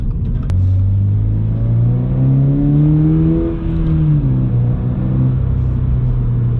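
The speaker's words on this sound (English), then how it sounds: "it's just not the greatest sounding catback I've heard" A 2022 Subaru BRZ fitted with a $600 catback exhaust accelerates, its droning exhaust note rising steadily in pitch, easing off, then settling into a steady cruise, loud and close with no talking.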